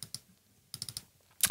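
Computer mouse clicks while working in an audio equalizer plugin: a few sharp, quiet clicks in short pairs, a pause, then a cluster of clicks and a final louder click, close and dry with no talking.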